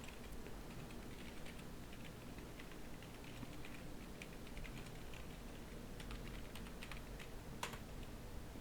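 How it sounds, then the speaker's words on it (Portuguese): An email address is typed on a computer keyboard, a quiet, steady run of light key clicks close by with no voices. "Então, eu vou digitar um e-mail."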